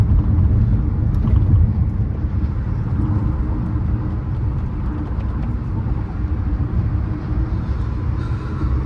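Kia Sonet CNG car cruising on a highway, heard from inside as a loud, steady low road rumble and engine drone with a constant wind and tire roar throughout.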